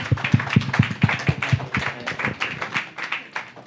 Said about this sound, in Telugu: చప్పట్లు పడదాం అందరం.